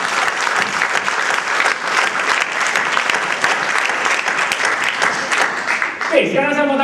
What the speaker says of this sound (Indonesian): Tepuk tangan dulu orang yang luar biasa